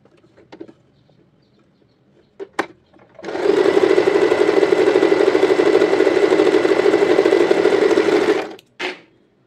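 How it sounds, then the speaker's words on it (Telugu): An Usha Allure DLX sewing machine stitches cloth in one steady, loud five-second run, bracketed by a few light clicks and handling taps before and after. "ఫాల్ కుట్టిన నెంబర్లో పెట్టి స్టిచ్ చేస్తే ఎలా వస్తుందో చూపిస్తాను."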